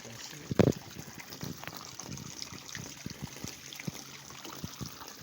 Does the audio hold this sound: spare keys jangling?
no